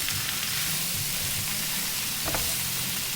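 Shrimp sautéing with garlic in a pan, a steady, even sizzle with soft scraping as the mixture is stirred, close and moderately loud, with no talking.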